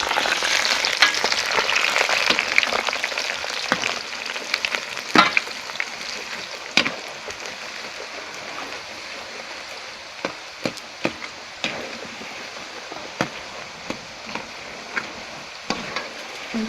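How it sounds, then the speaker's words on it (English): Peanuts fry in hot vegetable oil with a bright, steady sizzle that starts loud and gradually settles, punctuated by scattered sharp crackles and pops throughout. "So now I'm going to pour in the peanut into the vegetable oil."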